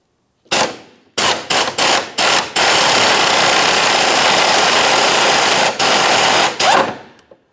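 A pneumatic-sounding power tool rattles loose a fuel tank strap bolt under a 2013-2020 Ford Fusion 2.0L. Several short, sharp bursts give way to one long, loud continuous run, then two final quick blips, close up.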